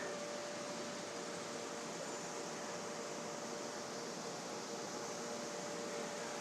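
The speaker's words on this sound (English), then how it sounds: "And let's go ahead and jog the belt." Line Boss machine running its belt in a short jog, a steady, even whirring hum with constant broadband noise throughout, moderately faint and close, with no voices.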